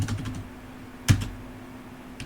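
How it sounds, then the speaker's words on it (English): Soft keystrokes tap on a computer keyboard as values are typed in, a few light clicks followed by one sharper key press, quiet and close. "So we're just gonna type in 0"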